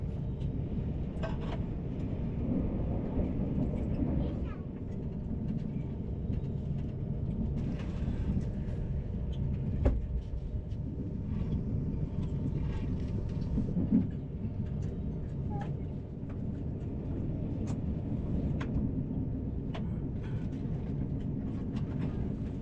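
A TGV Réseau high-speed train runs along the rails through the Alps with a steady low rumble and rattle heard from inside, occasional clicks and knocks over the continuous drone.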